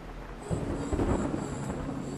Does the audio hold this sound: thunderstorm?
yes